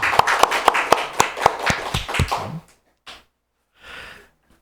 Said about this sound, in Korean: 우리 하나님께 영광의 박수 한번 돌려드리십시다